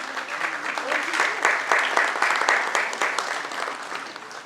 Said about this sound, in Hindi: तालियों में कंजूसी मत करिए